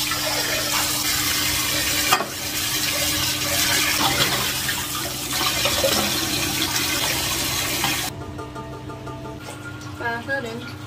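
Lotus seeds rinsed under a running kitchen tap: a steady rush of water for about eight seconds, then it cuts off, leaving quieter clinks and faint sounds with a hint of voices in the background.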